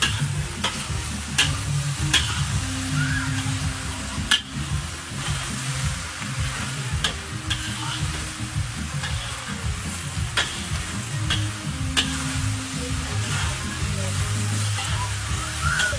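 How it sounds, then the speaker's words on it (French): Food being stirred in a hot frying pan for a bol renversé, a continuous loud sizzle with repeated spoon scrapes and clicks throughout, no speech. "Allez, mélange."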